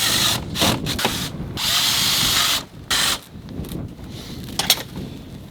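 A power drill drives screws into a vinyl fence gate in short bursts, the motor whirring up and stopping several times with pauses and small clicks between runs, close and fairly loud.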